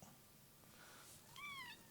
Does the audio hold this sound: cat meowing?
yes